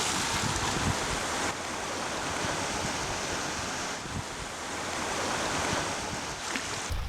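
Sea waves washing onto a village seashore, a steady broadband roar of surf with gentle swells and some wind rumble throughout, no voices.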